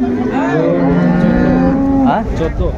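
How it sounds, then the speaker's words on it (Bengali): A cow at a cattle market gives a long, loud, close moo that falls in pitch, followed by a shorter second call, with no talking. "এখানে গরুটি দেখছেন রহিম ভাই"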